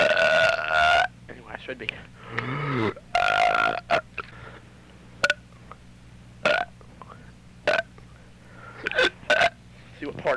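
A woman burps repeatedly and loudly up close, several long croaking belches and shorter bursts separated by quiet gaps, with brief speech mixed in among them.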